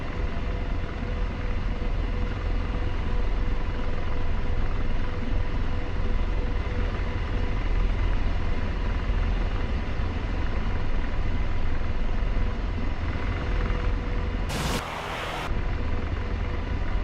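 Aircraft engines drone steadily and loudly on the runway in DCS World as another aircraft prepares to take off, a continuous rumbling roar with a brief sharp burst of noise near the end.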